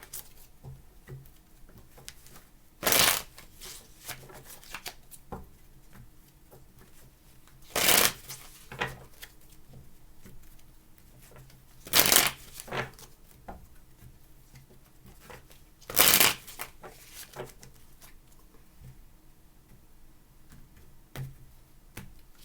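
Tarot cards shuffled in four separate quick bursts, spaced a few seconds apart, crisp and close against a quiet room.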